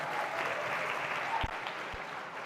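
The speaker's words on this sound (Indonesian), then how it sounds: "Tepuk tangan buat ketua kita, Igna." An audience at a gathering of Jakarta student council chairs applauds their chair with steady, fairly distant clapping and a couple of soft thumps.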